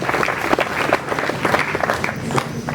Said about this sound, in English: clap for Julius Samuel